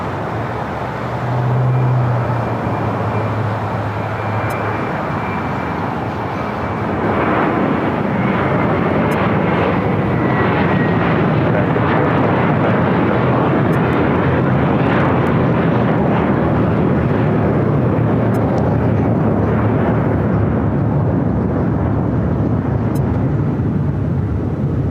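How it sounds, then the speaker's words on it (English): A Cayman Airways Boeing 737 MAX 8 jet roars loudly and steadily nearby, the engine noise swelling after a few seconds and holding strong throughout. "That is the Cayman Airways 737 at MAX 8."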